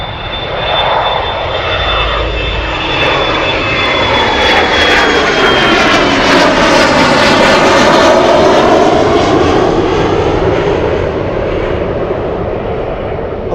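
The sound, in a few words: cargo airplane landing at Anchorage airport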